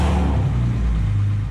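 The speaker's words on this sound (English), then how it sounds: "I then put some additional oil in the engine and started it for a couple of seconds." A BMW E36 engine, just fitted with an oil cooler, runs close and loud for a brief moment, a steady low mechanical drone with its pitch shifting slightly.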